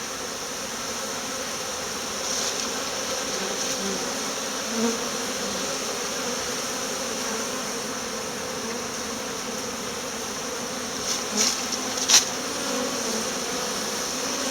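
A dense, steady buzz of many honeybees on a cleansing flight around their hives fills the air, with a few individual bees zipping closer past the listener.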